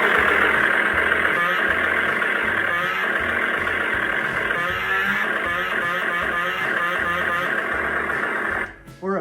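Army of Darkness toy chainsaw from Syndicate Collectibles playing its sound effect, a loud continuous buzzing, engine-like roar with rhythmic pulsing that runs steadily and cuts off abruptly at the end.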